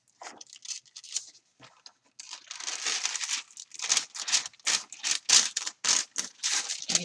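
Sheets of tracing paper crinkle and rustle as they are handled, in close, loud bursts of crumpling and scraping with short pauses between, no talking.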